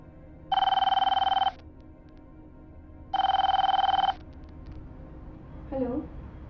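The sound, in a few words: phone ringing on an outgoing call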